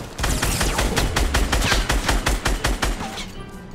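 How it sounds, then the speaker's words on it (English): Rapid gunfire in a Fortnite battle royale match, a loud close burst of about fifteen evenly spaced shots over three seconds, then a brief quieter tail. "Oh god, yeah, he's shooting me."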